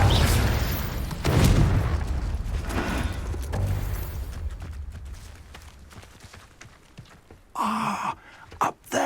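A Confringo fire spell explodes in Hogwarts Legacy: a loud fiery burst and rumbling whoosh that slowly fades over several seconds, followed by scattered quieter impacts and crackles.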